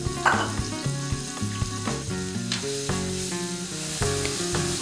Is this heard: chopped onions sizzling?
yes